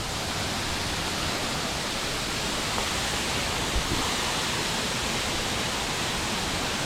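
A waterfall in Munnar roars as a dense, unbroken wash of rushing water, loud and steady from start to finish with no other sounds standing out.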